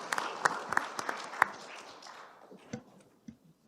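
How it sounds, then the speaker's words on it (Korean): An audience at a workplace innovation forum breaks into brisk applause that is dense and lively at first, then thins to a few scattered claps as it dies away. "박수 부탁드립니다."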